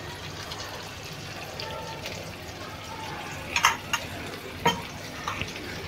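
Indian salmon (rawas) fish fries in oil in a pan with a low, soft sizzle, broken by a few sharp utensil clicks and scrapes near the end.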